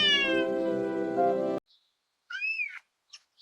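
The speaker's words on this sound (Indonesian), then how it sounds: "Kucingnya ketakutan." Frightened cartoon cat meowing in a children's animated forest rescue scene, a long loud strained meow followed by two shorter plaintive mews after brief silences.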